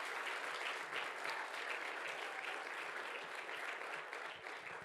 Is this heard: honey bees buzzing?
no